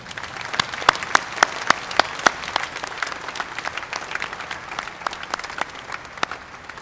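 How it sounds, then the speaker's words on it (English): Steady clapping from a group of people at a high school graduation ceremony, many hands at once, with a few louder sharp claps standing out early on; no talking. "Let's give our staff a round of applause."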